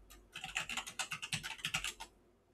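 Quick, close typing on a computer keyboard as a terminal command is entered on a Linux system, a brisk run of clicky keystrokes lasting about two seconds with no talking.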